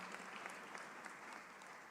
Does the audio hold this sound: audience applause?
yes